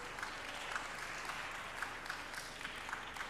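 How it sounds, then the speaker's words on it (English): Audience applause fills a conference hall as a speaker comes to the stage, a steady, dense wash of clapping from many hands that carries on evenly throughout, with no voices over it. "let's clap our hands for her."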